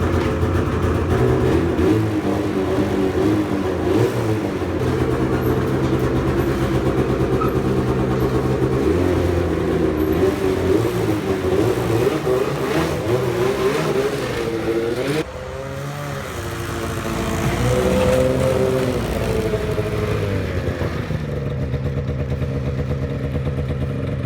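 Snowmobile engine fired up for the first time of the season, running at a steady loud idle with a rough clattering tone throughout, a brief dip and rev partway through, and no talk.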